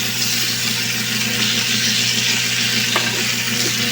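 Pork frying in a pan for adobo, a loud, continuous close-up sizzle with light stirring scrapes throughout.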